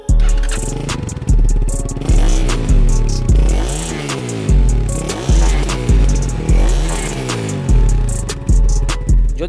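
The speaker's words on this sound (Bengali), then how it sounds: "যদিও ইঞ্জিন নয়েজটা অতটা স্মুথ আর না, বাট ইটস গুড এনাফ" A Speeder NSX 165R V3 motorcycle on a test ride repeatedly revs up and drops back in a steady rhythm of rising engine pulls, as if working through gears; loud and close throughout.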